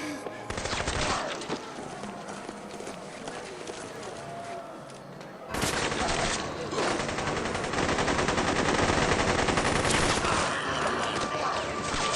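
Rapid, sustained gunfire rattles through a Dead Rising game scene as shooters fire at zombies, a dense continuous barrage that grows louder partway through, with voices mixed in.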